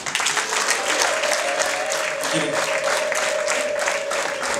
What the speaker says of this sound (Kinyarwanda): Mukoma amashyi n'impundu bwakira umukwe